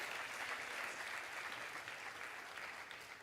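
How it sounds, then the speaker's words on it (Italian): Audience applause at the Premio Mestre di Pittura 2023 painting award ceremony, steady even clapping from a crowd heard somewhat distant and low in level throughout. "Facciamo un bel applauso."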